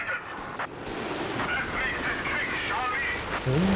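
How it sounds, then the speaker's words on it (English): A dive bomb strike in a Company of Heroes 3 2v2 match: a dense, continuous roar of battle noise with whining tones rising and falling over it, loud and sustained. "Gonna go for a dive bomb."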